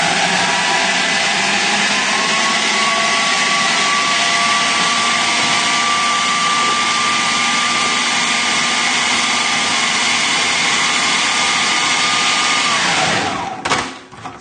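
A blender blitzes a coriander and lemon crust mixture with a loud, steady, high motor whine that runs continuously for several seconds before winding down abruptly.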